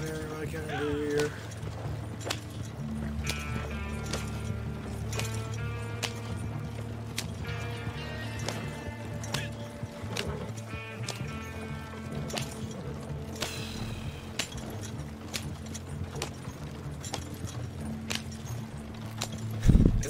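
A horse pulling a wagon in Red Dead Redemption 2 clip-clops steadily and moderately loud through the whole scene, the hoofbeats rolling on under someone talking.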